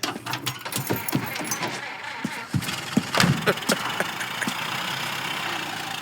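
A car engine idling in Mafia: Definitive Edition, a low steady hum under clicks and small mechanical knocks early on, settling into an even idle toward the end.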